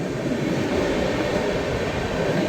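From inside the Rajdhani Express, a steady loud rumble of wheels and carriage noise fills the air as it rolls past the Goa Express, with continuous low roar and faint clatter.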